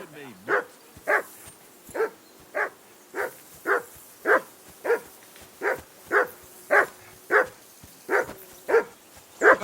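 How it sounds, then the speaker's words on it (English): A dog barks steadily in the medieval role-playing game Kingdom Come Deliverance 2, a long run of evenly spaced, loud, close woofs about twice a second, with faint whimpering between them. "Hey, call off that dog and then we can talk."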